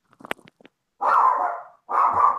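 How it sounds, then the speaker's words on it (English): A dog barks twice in long, loud, drawn-out bursts close to the microphone during a Christmas livestream, preceded by a few soft clicks and taps. "Is that your dog, Ricardo?"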